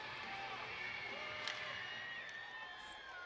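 Distant, steady roar of an arena crowd cheering before overtime at a Jacksonville Icemen versus Greenville Swamp Rabbits hockey game, with a few whoops rising above the murmur and a commentator talking over it.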